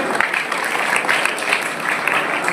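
A crowd claps steadily at a retirement ceremony, a dense, continuous patter of applause throughout.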